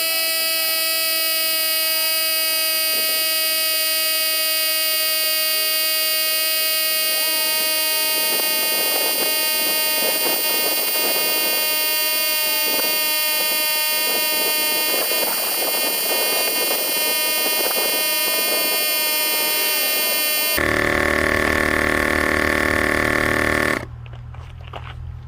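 A LASFIT portable tire inflator air pump running at close range with a loud, steady buzzing whine, interrupted by some rattling, then a sharp change in tone and level toward the end.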